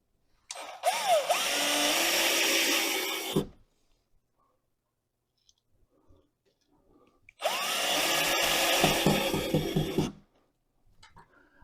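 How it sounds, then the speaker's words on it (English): A power tool drives two 25 mm screws while a TCL D1 Pro palm vein smart lock is installed: two loud, close whirring bursts of about three seconds each, separated by near silence. "Next, we have two 25 millimeter screws that we're just going to screw in here."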